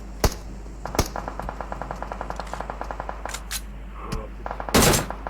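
Gunfire in the PUBG Mobile video game: rapid bursts of automatic fire mixed with sharper single shots, a loud crack near the start and a heavy blast near the end, without any talking.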